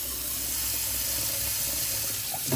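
Water runs from a kitchen tap into a sink, a steady hissing splash that continues evenly throughout, close and fairly loud, with no speech.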